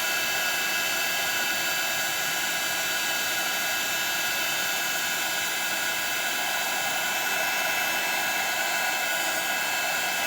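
A heat tool blows hot air onto a corner of a stamped card, producing a loud, steady fan roar with a constant whine and no variation throughout, with no talking.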